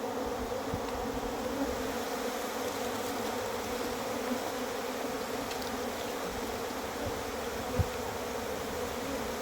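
Cavity-nesting honey bees being moved into a hive box fill the air with a dense, steady swarm buzz, close and constant throughout, without voices.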